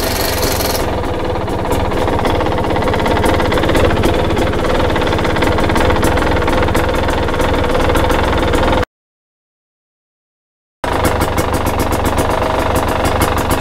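A Husqvarna/KTM dirt bike engine fitted with a TSP ERM power kit runs at a cold idle, a steady close mechanical thrum with fast pulsing, cut off by a short silent gap before it resumes.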